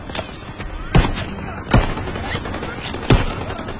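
Machine gun fire in the WWII Call of Duty PC game: a few sharp, loud bursts cut through a steady rumble of battlefield noise.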